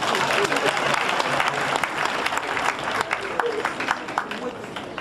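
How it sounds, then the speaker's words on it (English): Crowd applause for Wanyang Girls School at a school centennial celebration, a full, continuous burst of many people clapping, with a few voices mixed in among the crowd. "Let's give another round of clap for Wanyang Girls School."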